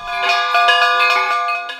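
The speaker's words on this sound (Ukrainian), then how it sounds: "У цей день вперше над водою пролунав дзвін" Church bells ring out over water at the consecration of a new church, clear bright struck tones overlapping in a rapid sequence of strikes, loud and close with long sustained ringing.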